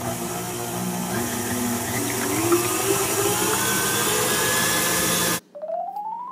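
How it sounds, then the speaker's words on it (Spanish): An electric mixer runs at full speed beating egg whites with sugar for meringue, a loud steady whir with a slowly rising pitch, close by and alone, cutting off abruptly near the end. "Le voy a subir a la batidora todo lo que da."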